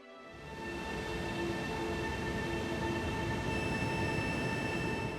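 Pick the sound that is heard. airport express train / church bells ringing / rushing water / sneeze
airport express train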